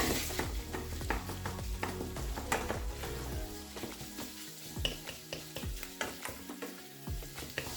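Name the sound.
beef mince frying and being stirred in a hot pan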